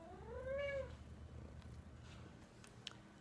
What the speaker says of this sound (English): I think the cats are saying it's dinner time